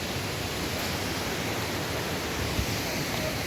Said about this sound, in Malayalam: ഇവിടെ എവിടെ നോക്കിയാലും നമുക്ക് വെള്ളത്തിന്റെ സൗണ്ട് മാത്രമേ കേൾക്കാൻ പറ്റുള്ളൂ